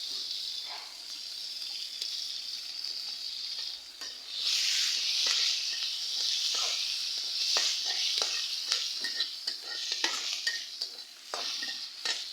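Green chilies and onion hit hot oil left from frying tilapia, a bright, steady sizzle that surges louder midway, dotted with repeated clicks and scrapes of stirring.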